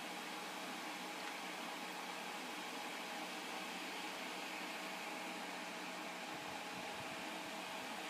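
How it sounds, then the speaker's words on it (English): A Dyson Hot + Cool fan heater running while oscillating gives a steady, broad whooshing airflow that stays even and continuous throughout, heard close with no voices. "the machine turns round so it'll circulate around the room"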